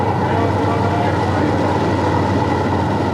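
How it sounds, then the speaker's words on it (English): Onboard rumble of a World of Outlaws sprint car engine at Manzanita in 1997, a steady, loud, low droning roar that stays constant throughout. "It's the rumble of that engine."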